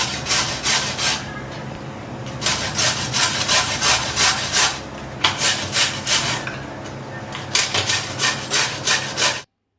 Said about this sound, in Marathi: इथे मी लाल भोपळा घेतलेला आहे, तो आपल्याला किसून घ्यायचा आहे.